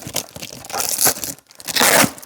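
Protective tape being peeled off a new motorcycle fairing from a T-Cycle spring fairing kit, a close, loud tearing and crinkling in two bursts with a brief pause between.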